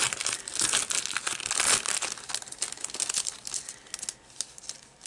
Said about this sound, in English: what I'm going to do is also put on some release paper